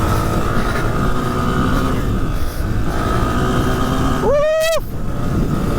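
Honda CRF300F trail bike engine droning steadily close up, then revving sharply with a rising whine as it accelerates near the end.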